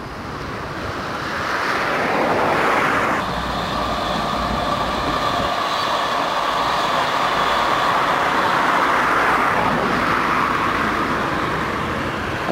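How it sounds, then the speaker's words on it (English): Fast-flowing Eyes Brook, swollen by heavy rain, pours into the River Nen at Wellingborough, giving a steady, loud broadband rush that continues through the whole clip with no pauses. "This is the Eyes Brook flowing into the River Nen."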